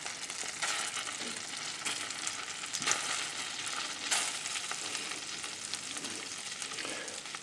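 Shrimp fry steadily in a hot pan for a shrimp Newburg, giving a dense, continuous sizzle with a few brief louder crackles and spatters, close and alone with no talking.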